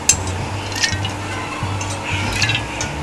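About 300 grams of cooking oil pours steadily into a large pan with a soft, continuous splashing, joined by a few faint clinks of metal.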